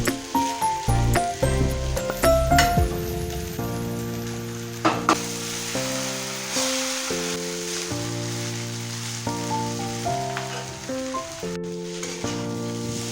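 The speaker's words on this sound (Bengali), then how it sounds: "দিয়ে ভালো করে সব কিছুর সঙ্গে মিশিয়ে নেব নুডলসগুলোর সঙ্গে" Noodles and vegetables for street-style egg chowmein are tossed and stirred in a hot pan, with scraping strokes and sizzling at the start, then largely masked by loud background music.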